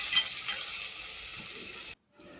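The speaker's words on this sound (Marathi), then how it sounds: "आणि थोडंसं भाजून घ्यायचं आहे तेलामध्ये" Thin-sliced potatoes frying in oil in a pan, a steady close sizzle with a couple of brighter bursts at the start, cutting off abruptly near the end before a faint return.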